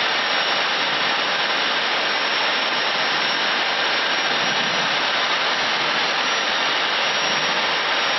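Airbus jet engines roar at takeoff power on the runway at Lyon, heard from the cockpit as a loud, steady, unbroken broadband rush with no voices.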